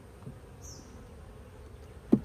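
A honeybee swarm in a swarm trap gives a low, faint, continuous buzz, ending in a single close knock.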